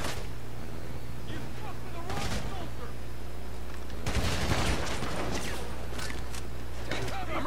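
Gunfire in GTA V comes in several loud bursts of shots, the heaviest volley near the middle, set against a constant game background drone.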